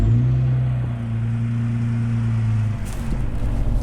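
Jeep Wrangler JKU fitted with a Bestop Supertop pulling away, a steady low engine drone with a slight rise as it drives off, then rougher rumble near the end.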